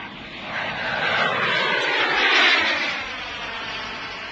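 A loud military airplane roars overhead near an air force firing range, its broad engine noise swelling to a peak and then easing slightly, steady and dominant with no voices.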